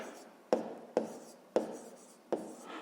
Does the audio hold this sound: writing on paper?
yes